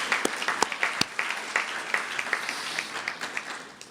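An audience at a jazz school graduate recognition ceremony gives the speakers a warm round of applause, steady clapping with a few sharper nearby claps standing out, fading slightly toward the end.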